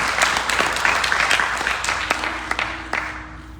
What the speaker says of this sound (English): Give Nathan a lovely round of applause